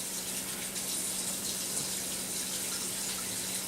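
Hands being washed under a running kitchen tap, a steady close gush of water that stays even and uninterrupted throughout.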